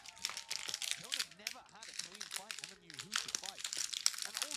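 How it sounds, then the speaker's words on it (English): Crinkling wrapper of a crunchy protein bar snack, close crackling and rustling bursts scattered throughout while someone talks over it. "I have these really noisy, crunchy protein bar things, so I apologize."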